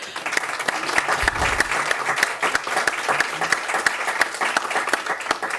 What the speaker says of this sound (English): Can we also take a minute to please give a round of applause for the staff that put this together?